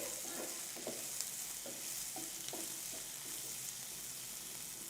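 Cauliflower fry cooking in a pan gives a continuous, even sizzle throughout, with soft intermittent stirring scrapes and taps over the top and no talking.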